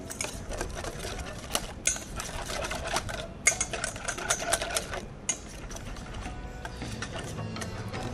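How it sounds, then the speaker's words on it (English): Chopped green chili being mixed by hand into a creamy white malai kebab marinade, soft irregular clicking and squelching stirring noises, fairly quiet and close, with no talk. "And now I'm going to mix this all up."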